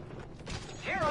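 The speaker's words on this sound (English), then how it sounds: "Reloading." Weapon reload in a battle royale video game, a quick mechanical clack and ratcheting click lasting about a second, close and moderately loud, with a faint sliding tone rising at the end.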